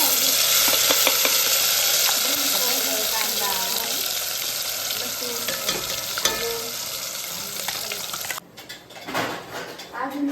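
Garlic sizzles in hot oil in a pan, a dense and steady frying hiss with occasional stirring clinks, close up, while people talk over it.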